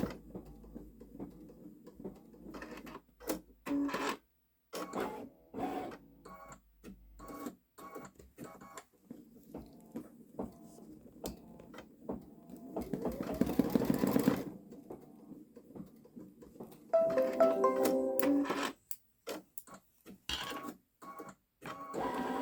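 A Babylock Solaris Vision embroidery machine stitches a large design on jeans, a steady rapid mechanical patter running in bursts with brief pauses and some louder whirring stretches.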